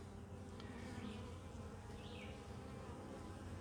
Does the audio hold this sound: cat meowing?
no